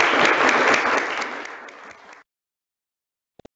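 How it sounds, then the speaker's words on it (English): Council members at a council meeting give a round of applause: dense, loud clapping for about two seconds that tapers and stops abruptly, then silence with a couple of faint clicks. "I think that actually deserves a round of applause."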